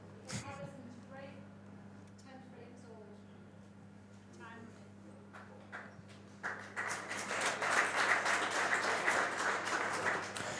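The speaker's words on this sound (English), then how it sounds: "Deserved round of applause for both players before this last frame." Snooker audience at a Supreme Masters final swells into applause for both players before the last frame, rising under a quiet voice and continuing steadily.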